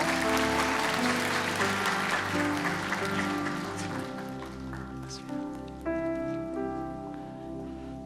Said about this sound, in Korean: 우리 큰 박수로 축복해 주세요